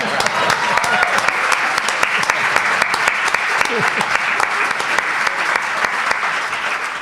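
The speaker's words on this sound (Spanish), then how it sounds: "Yo le voy a Con un par. aplaudir otra vez a Jesús Callejo, por favor." Studio audience applause on a Spanish television program, a dense, steady roar of many hands clapping that holds at a loud level throughout, with faint voices mixed underneath.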